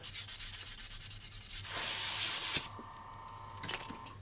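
Sandpaper of 400 grit rubs over a resin surface in one loud, close, scratchy burst lasting about a second, with quiet before and after.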